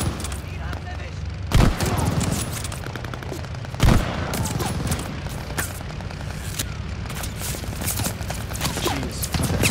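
Gunfire in the Call of Duty Vanguard video game during the Battle of El Alamein: a rapid stream of shots with two heavy booming blasts amid constant loud battle noise, with voices speaking over it.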